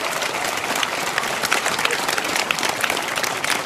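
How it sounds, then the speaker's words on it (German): Studio audience at the German television show Immer wieder sonntags bursts into sustained, dense applause, loud and even throughout with crowd murmur beneath. "Applaus"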